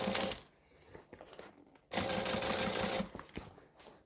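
Sewing machine stitching around a three-dimensional fabric bag, running in two loud bursts separated by a quieter pause and then easing to a brief final whir.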